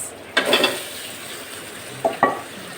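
Tilapia fish frying in hot oil with a broad steady sizzle, broken by a few short scraping stirs of a spatula against the pan.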